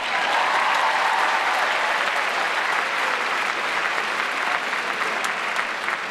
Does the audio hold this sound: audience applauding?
yes